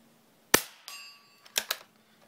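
A Marlin Model 122 .22 rifle fires old CB short ammunition: a sharp, quiet crack, a ringing metallic ping, then two more close pops, with no voices.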